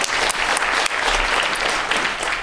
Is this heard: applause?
yes